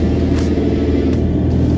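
A Toyota Land Cruiser 300 reverses through very soft sand on a dune, its engine a loud, steady low rumble held under load for a couple of seconds, with no voices.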